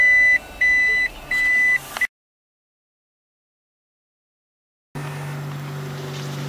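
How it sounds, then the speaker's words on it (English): A Toyota Prius sounds three evenly spaced electronic reversing beeps, fairly loud and close, while backing up; a stretch of silence follows, then a low steady hum of the car. "it beeps so that you know you're going backwards"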